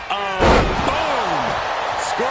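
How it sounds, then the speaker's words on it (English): A hard body slam from a Scorpion Death Drop in a wrestling video game: a single heavy thud near the start, with swooping game sound effects around it and commentary talk over it. "Boom! Scorpion death drop."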